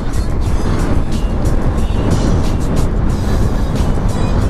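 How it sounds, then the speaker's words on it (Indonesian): A box truck speeds along a road at night, its steady loud engine and tyre roar filling the whole stretch without letup. "Ngeri banget truk box kayak gitu ngebut sambil belok bisa ngebalik kan."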